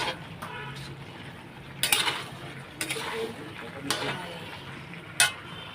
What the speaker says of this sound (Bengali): কুমড়োগুলো দিয়ে কিছুক্ষণ কষিয়ে নেব